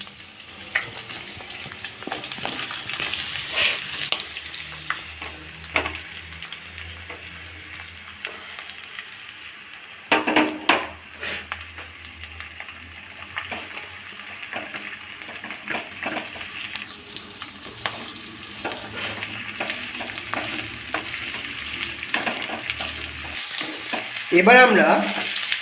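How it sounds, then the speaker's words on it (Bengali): Three large onions fry and sizzle steadily in a pan for an Indo-Chinese dragon chicken, with a brief spoken phrase near the start and occasional scraping stirs, the hiss growing louder toward the end. "এবার আমরা পেঁয়াজটা দিয়ে দেবো। আমরা এখানে 3টে বড় পেঁয়াজ ইউজ করেছি।"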